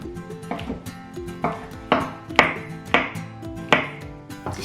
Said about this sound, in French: je vais couper nos champignons. Donc on a une barquette de champignons, donc 227 grammes. Et on va les couper en tranches.